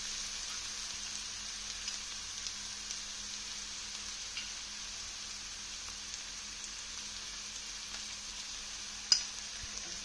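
Onion with ginger-garlic paste sautés in a pan for fish curry, a soft, steady sizzle and light frying hiss throughout with a few faint ticks and one small knock near the end, no voices.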